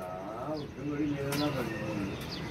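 Pigeons coo in repeated low, throaty phrases close by, with a few brief higher sounds mixed in.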